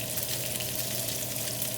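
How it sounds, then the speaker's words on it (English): Salmon pan-frying in a little too much oil in a hot non-stick pan, a steady, even sizzle with a fine crackle running without pause, close and moderately loud. "See, there's just maybe a touch too much oil in here, kind of getting slightly closer to a shallow fry than a saute."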